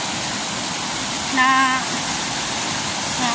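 Strong floodwater rushes past a spot where children cannot cross the bridge home from school, a loud, steady roar of water with a brief voice rising over it partway through.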